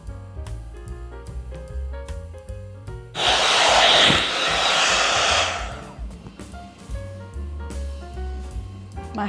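Agaro blow dry brush drying hair, a loud steady airy blower roar that starts abruptly, holds for about three seconds, then fades back under music.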